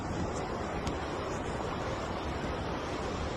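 Ocean waves roll steadily along the shore near an oil pipeline site in Warri, Delta State, a continuous loud wash of surf mixed with wind buffeting the microphone.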